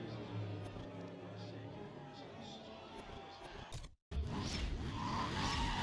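A race car in Need for Speed ProStreet drones steadily with tires squealing through grip and drift events, broken by a brief dropout before the engine and skidding return louder, with commentary talk layered over it.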